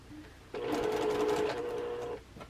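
Domestic sewing machine stitching pieced quilt block units, a steady continuous motor whir and needle rattle running about a second and a half before stopping, close and fairly loud.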